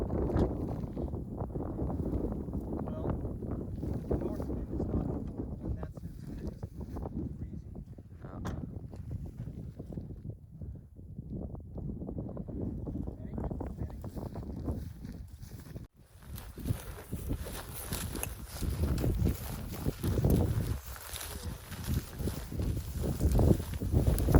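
Strong wind blowing outdoors during a pronghorn antelope hunt in Oregon: a continuous rough buffeting roar against the microphone that swells and dips and grows gustier near the end.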